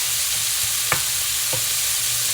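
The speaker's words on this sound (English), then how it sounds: "The bacon is cooking up nicely. We're getting a lot of grease." Bacon frying in a pan with plenty of rendered grease, a continuous dense sizzle and crackle close by, with a couple of faint clicks and no talking.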